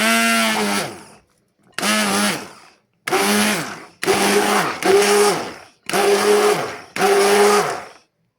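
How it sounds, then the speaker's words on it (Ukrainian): A blender whirs in seven loud bursts of about a second each, mixing a fermented baked milk dessert, its motor whine rising and falling with short pauses between pulses. "Беремо блендер і все це ретельно змішуємо, перебиваємо."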